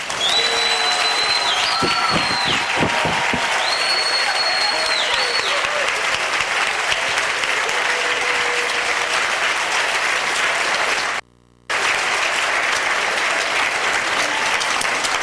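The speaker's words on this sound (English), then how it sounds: "I want all of you to stand up, and we'll give you a round of applause" Sustained applause from an audience standing up after a performance at a school event, dense and steady throughout with a few whistles and cheers near the start and a brief dropout near the end.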